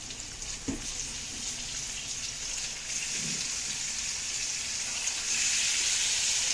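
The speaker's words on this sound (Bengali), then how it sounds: "পেঁয়াজগুলো হয়ে গেছে, মাংসটা দিয়ে দিয়ে এবার।" Meat added to fried onions in a pan, a steady hissing sizzle that grows a little louder toward the end, with a couple of soft knocks of utensils and no speech.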